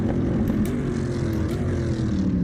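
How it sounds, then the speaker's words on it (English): Exhaust note of an American muscle car in Assetto Corsa, a continuous loud low engine drone with a few faint higher clicks over the top. "The exhaust is not that crazy, but sounds good."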